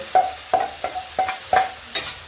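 Soaked poha tipped into a pan of boiling water for dhaba-style poha, heard as six evenly spaced metallic clinks of a spoon against the pan, crisp and close with near silence between them.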